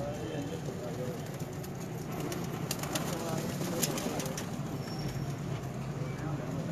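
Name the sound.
pigeons cooing and flying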